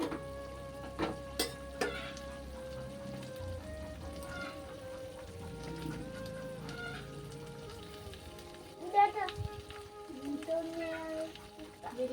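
A tilapia fish curry with potatoes simmers in a pan, giving a soft, faint sizzle and bubbling with occasional stirring clinks and scrapes, beneath a speaking voice.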